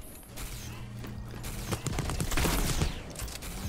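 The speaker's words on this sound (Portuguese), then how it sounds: "Já temos aqui tiros a acontecer" Bursts of rapid gunfire crackle amid clattering game sounds in the video game Lemnis Gate, moderately distant and fairly quiet.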